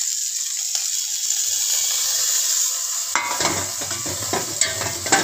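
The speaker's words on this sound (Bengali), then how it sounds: "এবার খানিকক্ষণ কষিয়ে নিচ্ছি মশলাগুলোকে।" Tomato, capsicum, chilli, garlic and ginger pastes fry in a pan, a steady sizzle that turns louder partway through when stirring begins, with scraping and clinks over the hiss.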